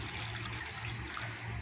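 Water is poured into a pot of cooked rice while it is still slightly warm, making a steady, close rushing splash that continues evenly before a brief louder burst at the very end.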